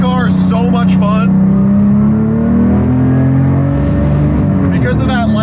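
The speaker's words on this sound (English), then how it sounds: "Downshifts in this car are so much fun." A Porsche GT3 RS with a lightweight flywheel revving on track downshifts, its engine note climbing and falling in sharp blips, loud and close from inside the car, with a voice talking over it.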